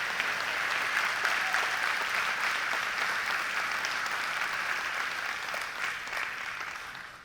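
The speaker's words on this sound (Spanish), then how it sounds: "si vas a aplaudir, tienes que aplaudir más fuerte" Church congregation clapping during a sermon, a steady, full burst of applause from many hands that holds evenly for several seconds before tapering slightly at the end.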